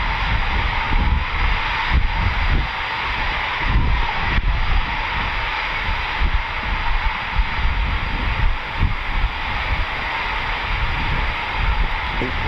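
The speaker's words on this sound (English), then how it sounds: "So this year's Typhoon display pilot is Flight Lieutenant Matt Brighty." A Eurofighter Typhoon FGR4 jet on a display flight roars overhead at an RAF airshow, a loud, steady broadband engine rumble buffeted by gusts of wind on the microphone.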